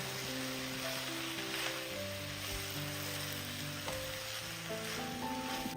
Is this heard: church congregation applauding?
no